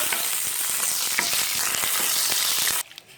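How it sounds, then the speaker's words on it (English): Curry leaves fry in hot oil with cumin seeds in a pan, a loud dense sizzle with rapid spoon scrapes as they are stirred, ending abruptly into near quiet. "add in your curry leaves. Okay, mix it or stir it very well."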